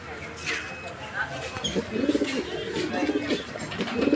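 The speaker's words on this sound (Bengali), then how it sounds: "এই যে দেখেন নরটা ডাকতেছে, দেখতে পাচ্ছেন? মানে মাদি ধরার সাথে সাথেই নরের ডাক।" A male pigeon coos repeatedly in a soft, low, throaty rhythm close by, while someone talks over the calls.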